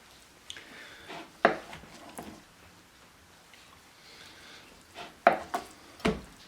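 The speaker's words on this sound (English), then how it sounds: "I'm going to take our tofu and we're going to cut it" Knife cuts through tofu on a board, giving a few soft, sparse knocks and taps close by, separated by quiet pauses.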